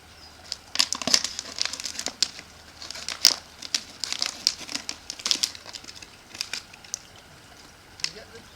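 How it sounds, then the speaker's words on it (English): Plastic bottle being cut at the end with a blade in an outdoor survival setting, giving a run of sharp crinkling, crackling snips and crunches in irregular bursts, close and moderately loud. "Now we're going to cut the end off the bottle"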